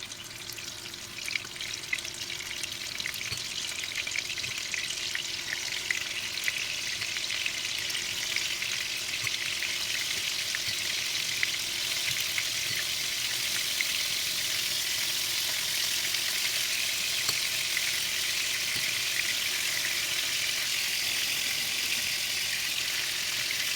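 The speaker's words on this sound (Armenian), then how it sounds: "Այն հիմա ավելացնում ենք արդեն փոքրիկ գնդերը և տապակում ենք" Small meatballs fry in hot oil in a pan with a steady, close sizzle and crackle that holds unbroken throughout, with no voices.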